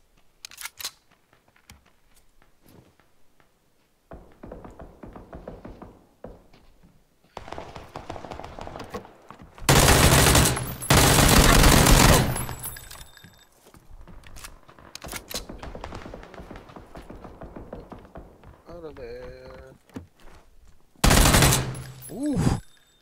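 Uzi automatic gunfire in the video game PUBG, heard as several loud rapid bursts of shots with quieter stretches of game noise between them.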